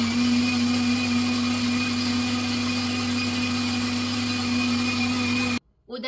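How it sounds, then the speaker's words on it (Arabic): Blender grinding orange and lemon peels with milk, a loud steady motor whine held for over five seconds, close, then abruptly cut off. "انا درت الحليب قليل باش نطحن القشور ديال الليمون وديال الحامض مزيان"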